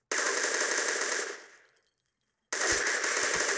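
A Kriss Super V submachine gun fires in rapid automatic bursts in the Crossfire shooter game: one long loud burst trails off into echo, a short silence follows, then another sharp burst starts.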